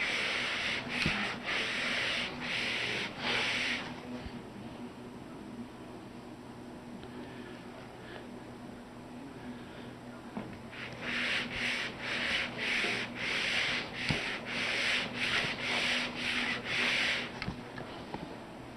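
Sandpaper of 220 grit rubbed over the fretboard of a 1964 ES-335 style guitar build, in rapid back-and-forth strokes, with bursts of steady scratchy rubbing at the start and again near the end and a quieter pause between.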